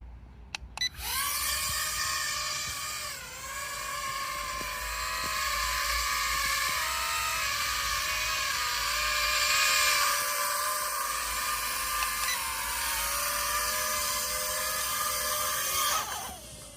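A small drone's propellers whir in a high, steady buzz for several seconds, rising sharply at the start and cutting off near the end, close by.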